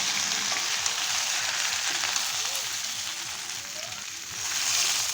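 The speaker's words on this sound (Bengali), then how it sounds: "এবার ভালো করে মশলাটার সাথে পটল আর আলুটা কষিয়ে নিচ্ছি" Pointed gourd and potato being sautéed with spices in hot oil, a steady bright sizzle with occasional stirring scrapes, continuous and close throughout.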